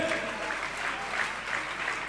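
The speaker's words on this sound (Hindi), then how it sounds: "जिसका नाम बोलता है तालियां सभी की होनी चाहिए" An audience at a Jain religious question-and-answer gathering claps in a dense, steady burst of applause that holds evenly for about two seconds, with no voices over it.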